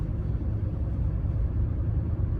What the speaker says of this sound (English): This diesel engine isn't super noisy either.